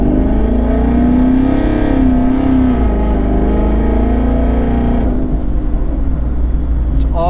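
Twin-turbo 2019 Ford Mustang GT with turbos mounted underneath the car, heard as a loud, steady engine drone with harmonic layers that rises slightly then eases off and settles, with a brief high whistle near the end.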